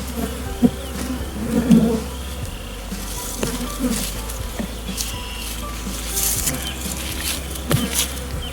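Dense buzzing of many bees fills the clip continuously, close by, with occasional soft knocks and rustles.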